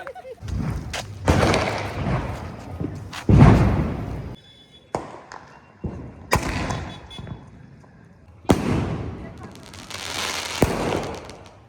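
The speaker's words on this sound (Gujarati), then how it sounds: "લટર પટર સ્કાય શોટ છે આપણી પાસે." Latar Patar sky shot fireworks set off during a family Diwali celebration: loud, close bursts of crackling bangs come in several volleys separated by short pauses.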